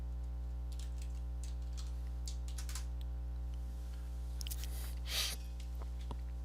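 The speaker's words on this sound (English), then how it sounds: "Type in the correct password." Typing a password on a computer keyboard in a classroom lab, scattered quiet keystrokes in short bursts over a steady electrical hum, with one louder tap near the end.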